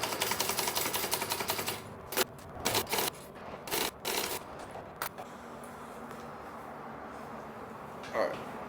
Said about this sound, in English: I'm going to sew the front and back together in the shoulder area.